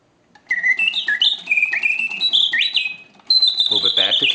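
An antique Bontems mechanical singing bird cage automaton plays loud, close warbling whistles that glide up and down in quick trills. A brief pause comes near the middle, then the song resumes with a sustained high note and a lower fluttering tone.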